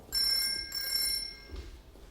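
Telephone bell ringing from the film Shine: two bright, trilling rings, close and clear, the second fading out over a quiet background.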